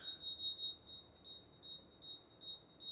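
Faint, repeated high-pitched electronic beeps from a DeWalt green cross line laser level in a steady pulsing rhythm, several short chirps per second, over a quiet background.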